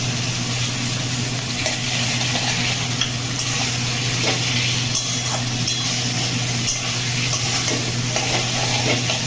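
Tomato and spice masala being sautéed in a pan for a Bengali katla fish muithya, with a steady loud sizzle and frying hiss throughout and faint stirring scrapes, no talk.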